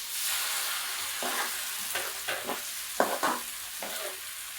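Cornflour slurry meets a hot pan of chilli chicken with coconut pieces, producing a close, steady sizzle broken by several bursts of louder bubbling and stirring.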